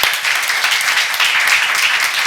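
A church congregation at a seminar bursts into loud, dense applause, many hands clapping rapidly in a continuous roar, close and without talk over it.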